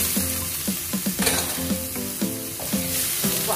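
Chicken pieces going into a pan of sizzling garlic and onion for Filipino chicken tinola, with steady loud frying hiss and repeated clacks of stirring against the pan, no talk.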